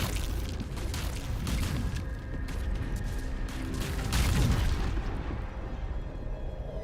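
Explosion rumble from fire set off in a minefield in Baldur's Gate, a continuous loud, dense roar with a swell in the middle that fades slightly at the end.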